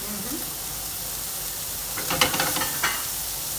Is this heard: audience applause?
no